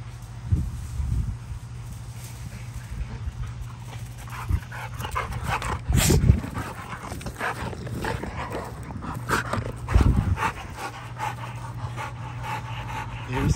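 Dogs at a kennel pant and whimper near and far over a steady low hum, with occasional yips and scuffles breaking through in a few louder bursts.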